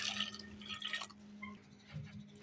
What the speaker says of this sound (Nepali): अब यसमा थोरै पानी,